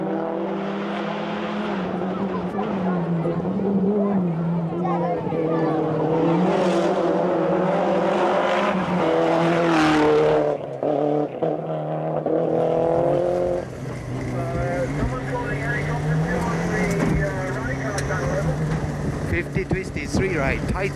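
A rally car drives a stage of the Neath Valley Rally, its engine revving and changing pitch through gears at close range, with a voice talking over it much of the time.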